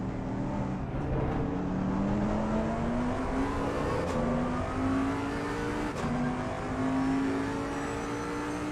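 A powerful W12 race car engine revs and drones continuously, its pitch climbing in steady steps as it accelerates, loud and close with no talking.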